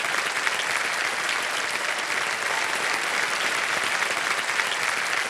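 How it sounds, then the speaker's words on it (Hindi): Sustained studio audience applause on the KBC quiz show set after a contestant wins 3,20,000 rupees, a dense, steady wash of many hands clapping at even loudness throughout, with no talk over it. "बहुत जोरदार तालियां बजे इनके लिए।"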